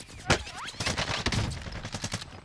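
Bursts of automatic AK-47 gunfire in the Warzone video game, several rapid volleys and sharp shots over about two seconds, close and punchy, with faint player chatter in the background.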